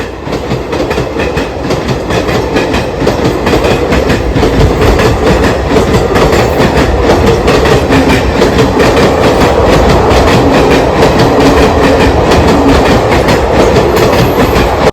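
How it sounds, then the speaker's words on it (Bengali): A train engine runs loudly at a railway station, a dense, continuous rumble and rattle with rhythmic clicking throughout, close by and with no one talking. "এখানে একটা ইঞ্জিন স্টার্ট করছে"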